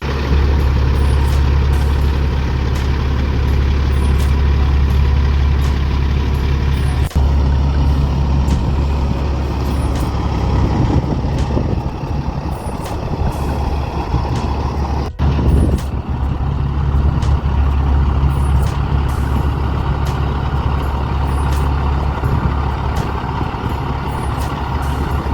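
A Kenworth W900 truck's Cat diesel engine idles loudly and steadily up close, a deep continuous rumble with some wind noise over it.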